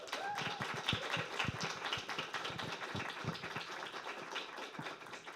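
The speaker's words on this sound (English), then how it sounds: "So huge round of applause for Andres." Audience applause for a poet at a poetry book debut reading, a steady patter of many hands clapping close by, continuous for several seconds with scattered sharper claps and a brief voice early on.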